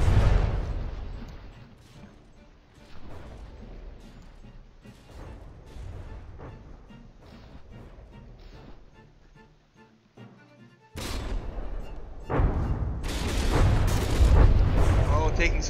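Heavy shells slamming into warships in the naval combat game From the Depths, repeated deep booming impacts and rumbling blasts, loudest near the end, with a voice talking over parts.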